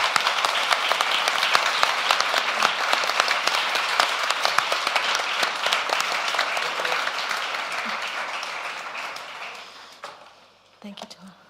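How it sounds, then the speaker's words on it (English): A large audience applauds steadily with dense clapping that holds for several seconds, then fades out, leaving a few scattered claps at the end. "can you please give this panel a big round of applause?"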